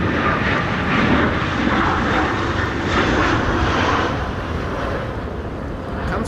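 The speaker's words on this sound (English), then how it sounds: "It's your daily Lufthansa flight." Lufthansa airliner passing at Amsterdam Schiphol during high winds, a loud, broad jet-engine roar that swells and slowly fades over several seconds, mixed with wind buffeting.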